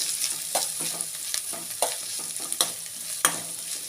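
Chicken fries in a pan with a soft continuous sizzle, punctuated by sharp utensil scrapes and clacks as it is stirred, close and alone without speech.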